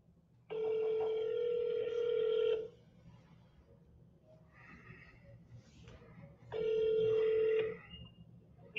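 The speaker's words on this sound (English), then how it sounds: "we always double dial every single time" A telephone rings in two long bursts separated by a few seconds of quiet room sound, with a faint brief noise in the gap; loud and close, with no talking.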